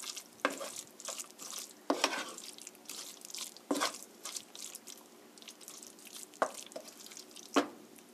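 Meat sauce being stirred and mixed for an omelette, with soft wet scraping strokes and a few sharper utensil taps against the pan or bowl, close and fairly quiet, no talking.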